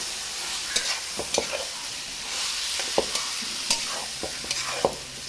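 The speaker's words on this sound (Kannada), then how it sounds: "ಆ ಕೋರಿ ಪಾಡ್ದು ಮಗಪಲೆ" Chicken sukka being stir-fried in a pan. A steady sizzle runs throughout, with repeated scraping clinks of a spatula stirring the meat at an irregular rhythm, close up and with no voices.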